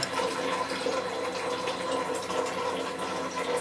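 Water runs steadily from a faucet into a plastic homebrewing bucket, a continuous rushing fill that stays close and fairly loud throughout with no talk over it.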